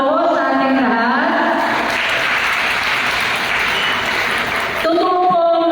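Loud, sustained audience applause at a division science and technology fair, swelling after a brief opening of tonal sound and filling several seconds before cutting off near the end.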